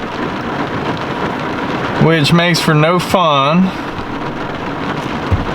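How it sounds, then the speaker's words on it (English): Steady rain with thunder hisses throughout in Mississippi turkey-hunting woods while someone speaks briefly over it; a low rumble sits beneath the downpour. "it's raining"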